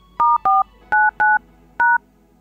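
Telephone keypad tones dialing a code: five crisp, loud electronic beeps in a quick, uneven sequence, each a steady dual tone, alone against near silence.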